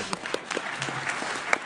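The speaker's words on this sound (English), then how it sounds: "we'll have a quick applause" Brief, fairly faint applause from a climate summit audience, scattered claps rising and falling over a short stretch in a large hall.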